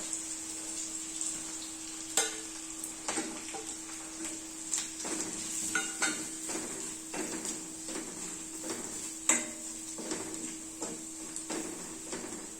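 Ginger, garlic and spices frying in oil in a pan for a rajma curry: a steady, soft sizzling hiss throughout, broken by light scraping and clicking stirring strokes at uneven intervals, with no talk.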